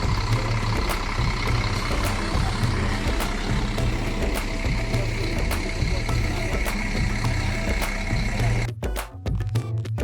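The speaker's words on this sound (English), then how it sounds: "We are loading the truck." A truck idles with a steady low engine rumble while being loaded for a mountaineering expedition to Mount Elbrus, continuous and close, with handling clatter mixed in; near the end a burst of sharper thumps and knocks cuts across the engine.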